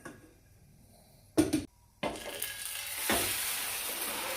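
Potato egg cake frying in hot oil gives a soft background sizzle, then a couple of sharp clatters from the pan, followed by a brighter, louder steady hiss and crackle of frying.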